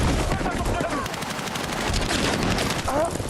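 Rapid bursts of automatic gunfire in the video game PUBG crackle densely and loudly throughout, with a voice mixed in.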